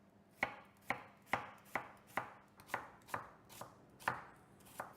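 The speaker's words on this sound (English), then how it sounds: "We can take half an onion and cut it quite thinly." Knife chopping half an onion thinly for risotto, about ten crisp, evenly spaced cuts against a board, close and clear with no talking.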